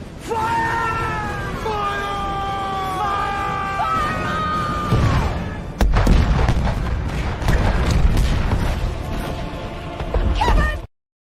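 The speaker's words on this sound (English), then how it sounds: "I think we need to fire the cannon" A cannon-fire sound effect booms out over crowd cheering and yelling, following a stretch of horn-like tones; the blast lands mid-clip and the roaring crowd noise continues loudly before cutting off.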